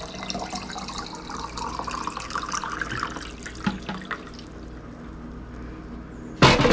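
Tap water pours steadily into a container for soap making, a continuous splashing hiss that thins out toward the end before a sudden louder gush returns.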